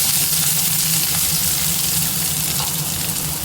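Mustard seeds sputter in hot oil for a home tiffin dish, giving a loud, dense and continuous sizzle with scattered tiny pops running throughout and a faint hum underneath.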